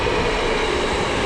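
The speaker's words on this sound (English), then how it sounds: "Oh, train." A train rumbling past at close range in Japan's Kansai region, a steady, loud rolling roar of railcars holding the same level throughout with no voices.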